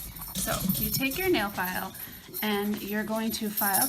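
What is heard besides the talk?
dogs whimpering and barking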